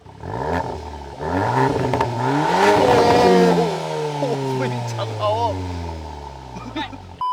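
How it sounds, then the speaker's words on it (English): A Volkswagen Golf R with an Akrapovic sport exhaust in race mode revs hard several times, rising and falling in pitch, loud and close, with a few sharp crackles between blips. "the added drama and theatrics of the Akrapovic sport exhaust system. And let me be frank, it sounds very mean, especially in race mode."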